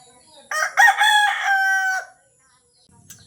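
A rooster crows once, a long harmonic call rising and then holding before cutting off, loud and fairly close, followed by quiet.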